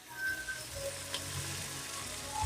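Onions and garlic frying in a pan, a soft, steady, low-level sizzle heard alone at moderate distance for a couple of seconds.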